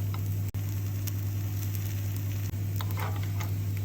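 Vegetable appay batter fries in the pits of an appe pan on a low-to-medium stove flame, giving a steady, close sizzle over a constant low hum.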